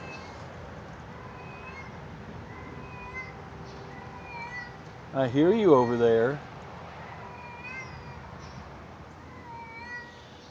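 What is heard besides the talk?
stray cat meowing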